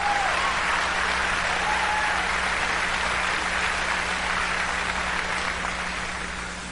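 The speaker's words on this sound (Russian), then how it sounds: "Я не знаю, почему вы хлопаете." A church audience claps steadily during a sermon, sustained applause from a large crowd filling the room at moderate loudness and fading slightly toward the end, with no speech over it.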